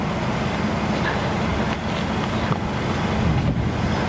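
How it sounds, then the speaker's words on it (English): Strong wind gusts near a severe supercell north of Amarillo, Texas, roar across the microphone as loud, continuous buffeting noise with surging, uneven bursts and no talking. "So you got, uh-oh, strong wind gusts."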